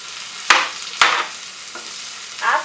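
Ginger goes into a hot pan for mushroom pulav, with two sharp clacks followed by brief sizzling bursts and light stirring. The frying is close and moderate over a quiet background, and no one speaks.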